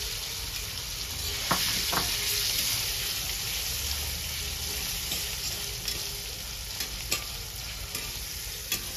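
Paneer pieces sizzle in a small amount of oil in a pan, a steady close hiss marked by occasional scraping stirs and light clicks, with no voices.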